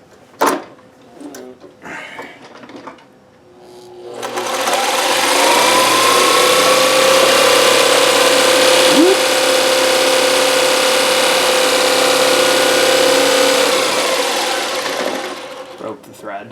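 A Consew CN2053R-1A sewing machine doing free motion embroidery winds up to full speed and holds a loud, steady high whir for about ten seconds before slowing; a few brief clicks and handling sounds come first.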